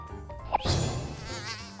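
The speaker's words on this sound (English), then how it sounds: "Mosquito." A mosquito's thin, high buzzing drone follows a short bright tone, sustained and fairly close, alone without any talk, in a children's animal-learning segment.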